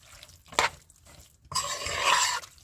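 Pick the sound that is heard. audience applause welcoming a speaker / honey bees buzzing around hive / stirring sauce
stirring sauce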